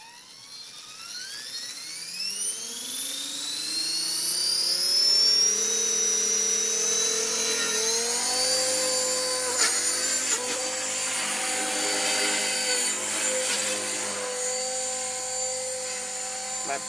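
An all-aluminum Blade 450 E-flite 450X RC helicopter with a 3600kv motor, Hobbywing Platinum Pro 40-amp ESC and governor spools up in a small backyard, a whine rising steadily in pitch, then settling into a loud, sustained high-speed drone.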